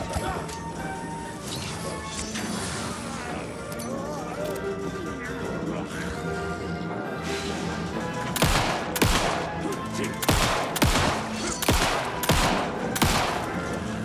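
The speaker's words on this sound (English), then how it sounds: "Oh, we can actually shoot away the cup too" Gunfire in the horror game Alan Wake II, a run of sharp, loud shots that comes in late, spaced about a second apart over a layered game soundscape, with someone talking over the play.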